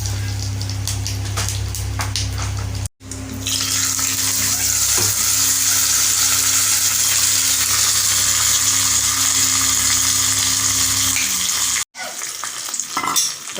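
Dried red chillies and curry leaves frying in hot oil for tempering spinach keerai: a loud, steady crackling sizzle that runs almost unbroken, with two brief dropouts.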